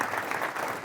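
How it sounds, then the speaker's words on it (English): People at a gathering applaud a group of mail carriers, a short burst of dense clapping that is fairly soft and heard only briefly. "So give all those carriers a round of applause that are here."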